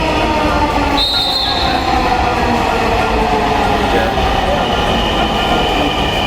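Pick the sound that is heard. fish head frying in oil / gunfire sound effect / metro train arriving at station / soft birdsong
metro train arriving at station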